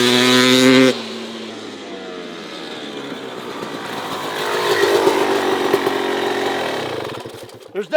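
KB 250 two-stroke dirt bike engine, a brief buzzing idle cut off and then a long raspy high-revving wail that rises and falls, passing at a distance before a couple of sharp pops at the end.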